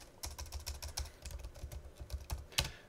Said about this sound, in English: I can still type.